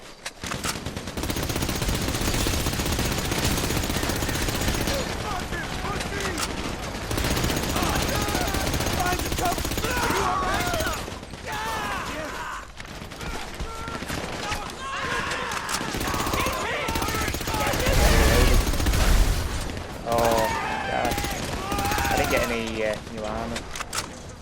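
Bursts of heavy automatic and single-shot gunfire fill a GTA Online shootout, rattling on and off with brief pauses, loud and close, while a voice talks over parts of the fighting.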